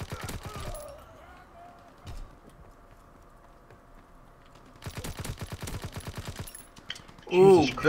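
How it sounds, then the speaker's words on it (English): Flame-firing shotgun blasts in a Call of Duty WW2 match, loud sharp bursts in two clusters, one near the start and another dense volley toward the end, with quieter game ambience between. "Oh, you shoot a shotgun that has flames?"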